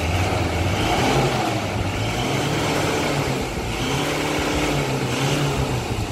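A Ford Ranger T6 with new engine mapping, a turbo underboost problem and an unchanged exhaust revs steadily near the mic with a throaty, sustained roar and gentle swells.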